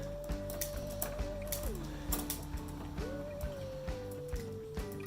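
Electric bike derailleur shifting into low gear on a workstand, with a steady ratcheting mechanical whir of the chain and cassette and a clear tonal shift as the gear changes, close and continuous throughout.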